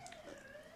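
A siren sounds outside during an indoor conversation: a faint, steady wailing tone that glides slowly, heard through background noise with no speech over it.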